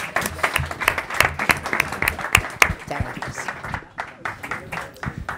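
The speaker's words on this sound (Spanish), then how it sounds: "Un aplauso." An audience at a lecture on exercise science and sport applauds in a steady burst of clapping that lasts the whole stretch, fairly close and fading slightly toward the end.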